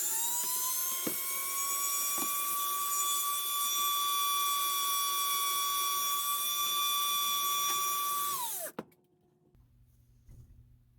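A small high-speed power drill whines steadily at a constant pitch for about eight seconds, drilling a plastic model spaceship hull, then spins down and stops, leaving faint handling noises.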